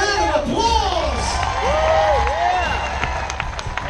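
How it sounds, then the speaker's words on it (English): An audience at a hairy chest contest cheers and applauds, with whoops, shouts and clapping mixed together under a lively crowd din, fairly close and continuous. "Give him a round of applause."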